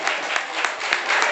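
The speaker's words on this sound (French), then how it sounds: "On l'applaudit" Applause for a correct answer at a school quiz contest rings out as a steady patter of clapping hands, fairly loud and continuous for a moment with no voices over it.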